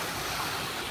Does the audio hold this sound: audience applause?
no